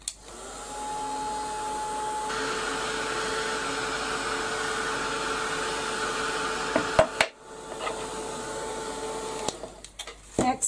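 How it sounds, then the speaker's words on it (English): A heat gun blows hot air to dry paint on a butterfly shadow box craft, a steady loud whooshing hum that holds for about seven seconds, then cuts out and returns briefly amid a few handling clicks. "with the heat gun"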